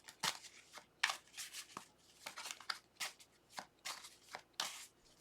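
A deck of cards is shuffled close up in a quiet room, a series of crisp riffling bursts and soft taps repeating in quick, uneven succession with no talk.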